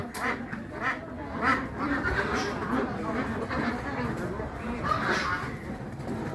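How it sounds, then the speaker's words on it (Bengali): A flock of Pekin ducks at a duck market in Khulna quacks continuously nearby, loud overlapping calls with steady chatter and no clear pauses. "এদিকে সব বেজিং হাঁস"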